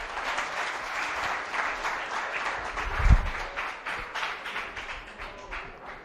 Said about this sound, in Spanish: Vamos a recibir al doctor Jaime Contreras con un fuerte aplauso para que inicie su conferencia.